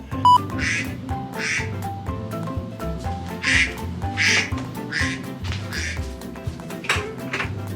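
Repeated electronic duck quacks from an alarm, about one every half second or so, sounding over a steady musical or humming background, fairly loud.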